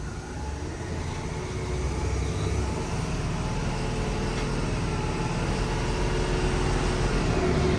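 A Tata 1622 bus diesel engine runs at about 1000 rpm with the accelerator pressed about 40 percent. It gives a steady, dense, loud rumble that builds slightly and then holds for several seconds, with no speech.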